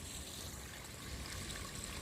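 Sewage water pours into a street drainage pit fed from North Street and Kingston Garden, a continuous trickling, streaming wash heard close and steady throughout.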